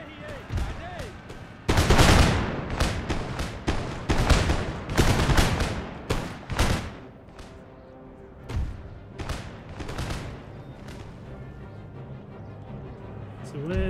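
Musket volleys crash out in a Napoleonic-era battle in Empire: Total War, loud clustered bursts of many shots followed by scattered firing and rumble, with voices talking throughout.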